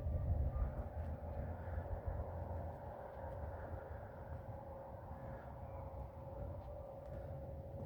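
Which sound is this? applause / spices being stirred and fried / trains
trains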